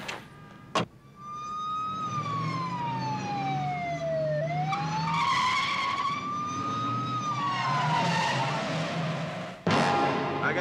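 Police car sirens wail in a film street scene, one long rising and falling tone sweeping steadily up and down, loud and continuous, with a brief thump near the start and another near the end.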